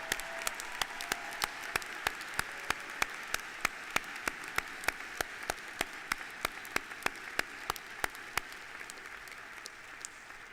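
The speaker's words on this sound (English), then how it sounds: "Please join me in a round of applause for all our master's candidates" Sustained audience applause at a university commencement for master's degree candidates, a steady wash of many hands with sharp, prominent claps standing out near the microphone.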